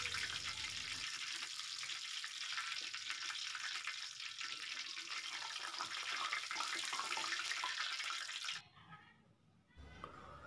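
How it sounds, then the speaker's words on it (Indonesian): Steady, dense crackling sizzle of tofu frying in hot oil, loud and continuous, dropping briefly near the end before resuming. "Lalu goreng lagi sisa tahu yang tadi."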